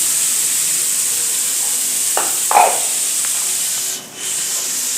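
Turmeric and spices frying in oil give a steady, close broadband sizzle, with a couple of brief scraping stirs about midway and a short dip near the end.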